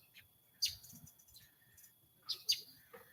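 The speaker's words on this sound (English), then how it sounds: "Can you hear the birds?" A few brief, high chirps from birds, sparse and fairly faint, with quiet low rumbling underneath, outdoors at Inks Lake State Park, Texas.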